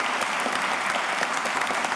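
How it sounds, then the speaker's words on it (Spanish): Sustained audience applause fills a political congress on Cuban resistance, a dense, even wash of many hands clapping at close range with no voices above it. "Gracias por los aplausos"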